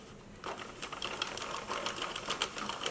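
A Singer knitting machine carriage runs across a flat piece worked with two strands of yarn, giving a steady clattering, whirring mechanical rattle that starts after a brief quiet moment and continues close and loud.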